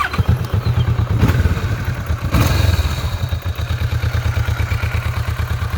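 A Kawasaki Vulcan 650 S with stock exhaust idles and revs nearby, its steady pulsing parallel-twin thrum briefly rising twice before settling back to a quiet, even chug.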